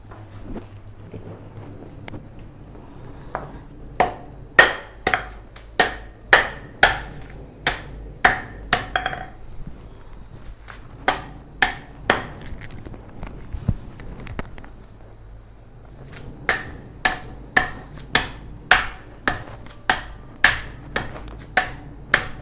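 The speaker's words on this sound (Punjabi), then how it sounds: "ਇਹਨੂੰ ਵੇਲਣੇ ਦੇ ਨਾਲ ਚੰਗੀ ਤਰ੍ਹਾਂ ਕੁੱਟ ਲਵਾਂਗੇ ਬਰੀਕ ਕਰ ਲੈਣੀ ਆ" Ice is pounded with a wooden rolling pin on a floor, giving sharp, close thuds in quick rhythmic bursts of several blows, with short pauses between groups, alone without talk.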